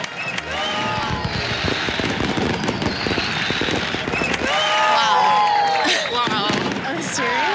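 A dense burst of fireworks crackles and pops continuously at a wedding celebration after the glass-breaking ritual, loud and sustained, with guests cheering and talking underneath.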